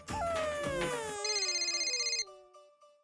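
An electronic telephone ringtone plays a bright, sliding melody of tones that pulses briefly before cutting off abruptly.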